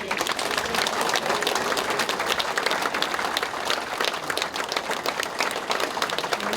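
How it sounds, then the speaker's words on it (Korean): A church audience gives a speaker a welcoming round of applause, dense and even clapping from many hands that holds steady throughout without voices. "큰 박수로 환영합니다."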